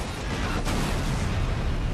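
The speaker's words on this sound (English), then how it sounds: "that was a big explosion" A big in-game explosion in the video game Halo: Reach, a dense, sustained roar of rumbling blast noise with a brief sharper burst early on, loud and continuous throughout.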